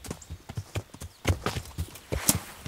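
Galloping horse in Kingdom Come: Deliverance, hoofbeats thudding close and loud in a fast irregular rhythm, with a sharp bright accent near the end.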